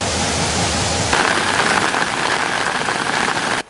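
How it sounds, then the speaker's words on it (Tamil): Heavy rain with wind in Kandy district, a dense, steady hiss of rainfall that shifts in texture partway through before cutting off abruptly at the end. "கண்டி மாவட்டத்தில் பலத்த காற்றுடன் கூடிய மழை பெய்து வருவதால்"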